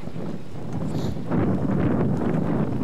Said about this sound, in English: The winds are gusting up to 37 miles an hour.